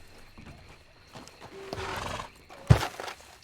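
Horses near railway tracks give a brief, loud whinny late in the moment, following softer snorting and shuffling movement, with no talking.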